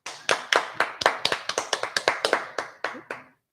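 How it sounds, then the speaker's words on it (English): Two people clap together in a radio studio, about fifteen sharp, close hand claps in an even rhythm that stop abruptly after roughly three seconds. "There's 2 of us applauding now."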